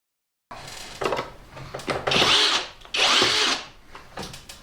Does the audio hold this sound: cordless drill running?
yes